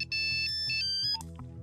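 A phone ringtone chimes in a repeating electronic melody, loud and close, in a Hindi film scene.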